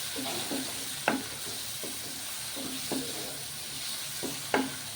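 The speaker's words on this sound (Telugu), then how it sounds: "కొంచెం కారము ధనియాల పొడి కూడా నూనెలో వేగితే బాగుంటుంది" Chili powder and coriander powder fry in hot oil for a rajma masala curry, a constant close sizzle broken by a spoon's scrapes and clinks against the pan roughly every second, with no voices.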